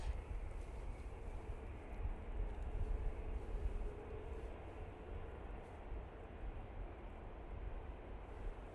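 An easyJet airliner coming in to land at a windy Manchester Airport, a faint, low, steady engine rumble heard from a distance with wind noise, no talking.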